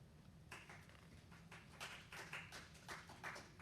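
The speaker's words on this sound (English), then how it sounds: "A little golf clap." Small, quiet golf clap at a school board meeting: a few scattered hand claps, soft and sparse, in a faintly humming room with no talk.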